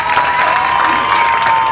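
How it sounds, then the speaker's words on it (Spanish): Loud crowd applause and cheering at an outdoor traveling arts fair, a dense continuous roar of clapping and shouts heard close and sustained. "¡Aplauso y escándalo para mi amiga número dos!"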